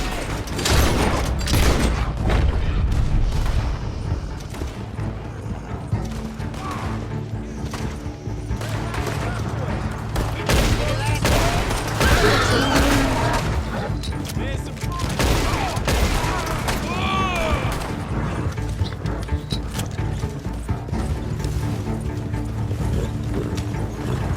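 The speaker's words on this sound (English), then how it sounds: "Shoot them when you see them. Don't let up!" A chaotic gunfight rages in Red Dead Redemption 2, with dense, rapid gunshots and booms layered over game noise and shouted character dialogue throughout.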